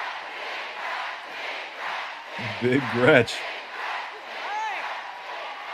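Crowd cheering for Gretchen Whitmer at a Detroit, Michigan campaign rally, a steady distant roar of voices with one voice shouting a chant briefly over it.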